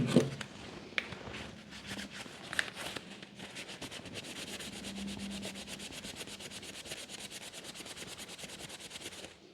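Bose QC35 headphone ear pads wiped with isopropyl alcohol, a close, soft rhythmic rubbing that speeds into rapid, even strokes toward the end.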